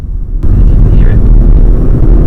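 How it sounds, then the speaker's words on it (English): A Suzuki Swift Hybrid accelerates with its electric motor whining along, a loud steady drive rumble with a faint rising whine over it after a quiet start. "It's not a turbo, that's the electric motor whining along"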